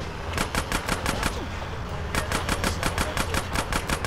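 Rapid bursts of automatic gunfire in GTA San Andreas Definitive Edition, two volleys of sharp repeated shots separated by a brief lull, loud and close over constant game background noise.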